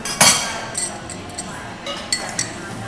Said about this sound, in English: And then a couple of pieces of ice.